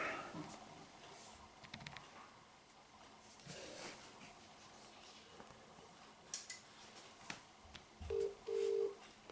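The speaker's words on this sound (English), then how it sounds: "It's ringing the phone now, you can hear it ringing, but it's not ringing the bells." A telephone line ring tone from a PABX phone system sounds faintly in a quiet shed, followed by short electronic tones near the end.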